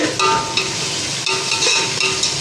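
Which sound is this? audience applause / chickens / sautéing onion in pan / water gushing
sautéing onion in pan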